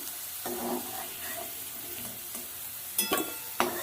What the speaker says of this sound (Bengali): ঢাকা তেলে আলুটা ভেজে নিলাম